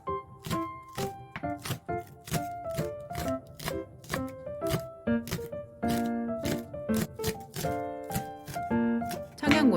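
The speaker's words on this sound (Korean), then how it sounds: "대파를 적당한 크기로 썰고" Knife chopping green onion on a cutting board, rapid close rhythmic thuds in an uneven series with soft music playing underneath.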